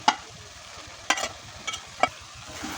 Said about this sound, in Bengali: এবার ভালো করে নাড়িয়ে চাড়িয়ে শুকিয়ে নিলে রেডি হয়ে যাবে গাজরের হালুয়া